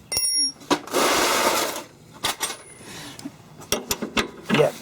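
Wrench working a 17mm locking nut on a Mountfield 1328H lawn mower, with sharp metallic ratcheting clicks and short scraping bursts in an irregular pattern, close and moderately loud.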